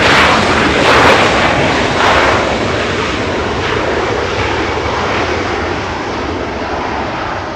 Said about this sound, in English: China Southern Cargo flying to Shanghai. A777 lifting off.